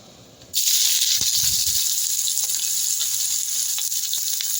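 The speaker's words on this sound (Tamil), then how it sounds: "பாருங்க எண்ணெய் சூடானதுமே பொரியுது" Onions and mustard seeds drop into hot oil for chicken kothu parotta and burst into a loud, close, continuous sizzle with scattered pops and crackles, following a brief quieter moment and a few soft clatters.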